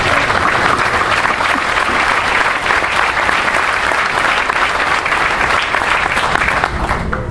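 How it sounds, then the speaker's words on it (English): A large audience at a graduation ceremony applauds a team in a dense, sustained burst of clapping that stays loud and even throughout and eases slightly at the very end. "let's give a round of applause to all of them"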